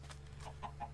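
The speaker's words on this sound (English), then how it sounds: "you may hear that clucking in the background" Chickens in the Minecraft video game give a few quick, faint clucks in the background within about a second.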